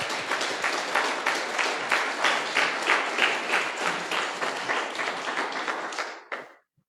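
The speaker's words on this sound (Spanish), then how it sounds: "Dale un aplauso al Señor, hermano." A church congregation applauding, a dense, loud sustained wave of many clapping hands for several seconds before stopping abruptly.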